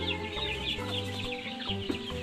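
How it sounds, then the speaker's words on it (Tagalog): Chickens cluck and chatter steadily while being fed in a busy outdoor yard, with a low hum running underneath. "Ayan si mama nagpapakain ng manok."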